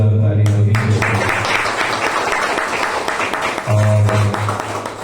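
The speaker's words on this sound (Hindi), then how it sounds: "आदरणीय अनिरुद्ध से और संजीव घोषाल जी के लिए जोरदार ताली होनी चाहिए" An audience at a Hindustani classical sitar and tabla recital claps steadily for the performers, the applause swelling between stretches of someone speaking over a microphone.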